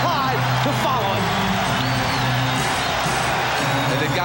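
A packed Portland arena crowd at the 1992 NBA Finals, Bulls against Trail Blazers, roars and cheers steadily throughout, a dense continuous wall of noise with whoops rising above it.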